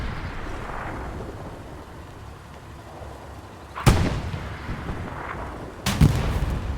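Two booming tank cannon shots in the World War II shooter game Hell Let Loose, each a sharp blast with a rumbling tail, over a low background rumble.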